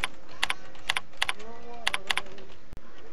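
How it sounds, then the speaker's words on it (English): An email address is typed on a computer keyboard, a close series of crisp key clicks in short irregular bursts, while someone talks quietly beneath it. "I'm just entering in my"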